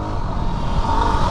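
A Yamaha WR250R motorcycle engine revs steadily while riding held in gear, a loud, continuous close-up drone with a sustained whine and no breaks.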